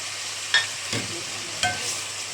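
Chillies, coriander and korma masala fry in a pot for a qorma, a soft steady sizzle with a few clinks of a stirring spoon against the metal.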